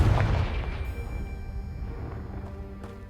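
A booming blast from the Confringo spell in Hogwarts Legacy, a loud burst at the start that decays into a rumbling, ringing tail, with no voices.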